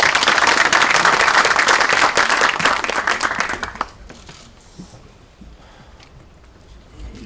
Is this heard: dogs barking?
no